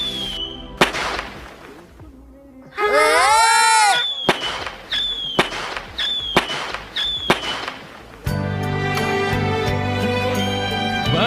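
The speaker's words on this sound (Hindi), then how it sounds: "अरे वाह, आज तो हमने पटाखों के साथ अपनी छुट्टी बिताई है।" Firecrackers and fireworks go off in an animated cartoon: a string of loud sharp bangs spaced through the clip, a whistling rocket burst, then a dense crackling volley at the end, close and dominant.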